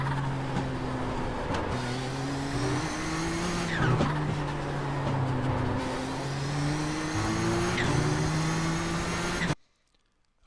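A race car engine in the iRacing sim at Okayama International Circuit, loud and continuous, pitch rising and dropping through gear changes and throttle through a corner, then cutting to near silence at the end.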